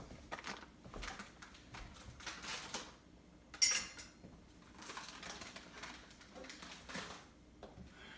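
Small spoon scraping and clinking against a Vitamix blender container while scooping out thick protein pancake batter, light intermittent taps and scrapes, close and quiet, with one sharper clink.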